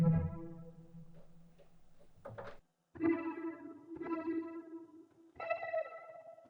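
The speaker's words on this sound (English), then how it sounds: "we're going to move on to the ambient melody, still using the Blizzard presets from Mellotron" A single soft Mellotron note from a Blizzard preset plays with a hazy, chorused texture, pausing briefly before the note returns and sustains, heavily processed and unaccompanied.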